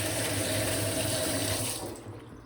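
Water gushes steadily from a newly plumbed tap in a room under renovation, a loud, close, continuous rush that eases off slightly toward the end.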